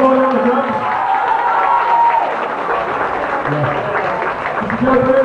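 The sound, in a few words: applause for the drummer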